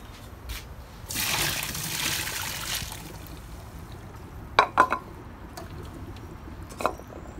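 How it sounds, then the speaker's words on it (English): Pasta water pours out as spaghetti is drained during backyard cooking outdoors, a steady gush for about two seconds that fades into scattered light clinks and drips. "as I go and drain the pasta"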